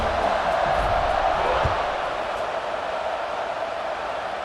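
Steady roar of a large American football stadium crowd during a game, a broad continuous wash of voices with no single sound standing out.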